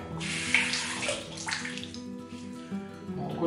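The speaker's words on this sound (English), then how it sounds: "I'll rinse that off." Running water from a tap rinses a shaving razor, a steady close splashing rush with slight changes as the blade moves through the stream.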